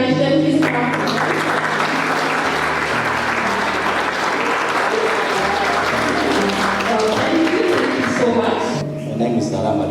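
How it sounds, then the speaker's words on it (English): Sustained, loud applause from a seated crowd welcoming new staff members at a university thanksgiving gathering, steady for nearly ten seconds with a low hum underneath before tapering at the end. "Let's encourage them. Please clap."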